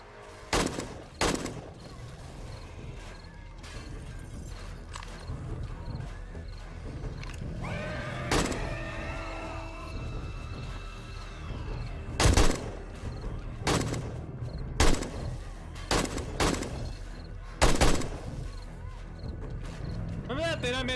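AK rifle fire in the survival video game 7 Days To Die: scattered sharp gunshots, single and in quick pairs, over a steady game background with a horse-like whinny in the middle, while someone talks throughout.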